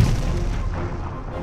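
Naval cannon fire from the ironclad Cochrane at sea, a single heavy boom at the start followed by a rolling rumble that slowly fades.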